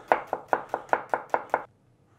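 A knife chops onion finely on a board, seven quick evenly spaced crisp cuts close by, then silence.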